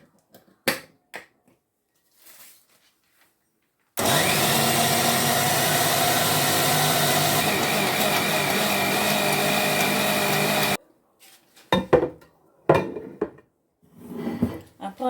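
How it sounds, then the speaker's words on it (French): A blender purées ingredients with a little oil for a spicy braised-fish marinade, its motor roaring loud and steady for about seven seconds between scattered clicks and kitchen knocks. "Et nous allons mixer nos ingrédients."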